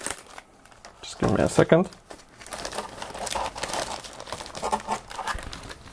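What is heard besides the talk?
opening a plastic bag of decal sheets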